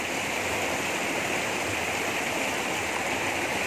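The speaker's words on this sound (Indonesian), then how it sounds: "Sebab kamu dengar aliran sungai saja dengan bunyi-bunyi cengkrik macam itu." A forest river stream near Kampung Lotong, Kudat, flows in a constant, dense rushing wash, close and steady throughout with no voices.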